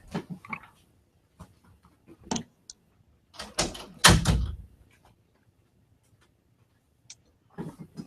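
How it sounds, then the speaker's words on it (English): A door swung shut indoors during a painting session, landing as a loud close thump with a short rattle, framed by a few quieter clicks and handling knocks before and after. "Let me shut this door."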